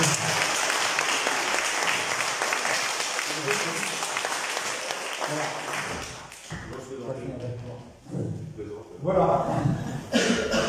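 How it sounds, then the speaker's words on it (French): Applause from a congregation during a church service, a broad wash of clapping for about six seconds that fades into scattered claps, coughs and murmuring, then a brief renewed burst. "Est-ce qu'on peut l'applaudir, mon frère?"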